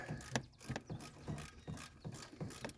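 A ratchet wrench clicks in steady, rhythmic bursts, close and clear, as it tightens an alternator bolt on a 2002–2007 Toyota Corolla.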